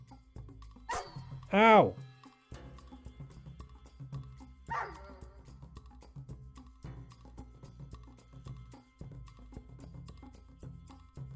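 Dog in the Curious Expedition 2 video game gives a loud whimpering yelp early on, then a fainter bark-like yip, over game music and someone talking.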